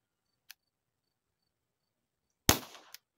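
An Umarex pistol, not a firearm, fires one sharp, loud crack that trails off into a short rattle, set among near silence with two small clicks before and after.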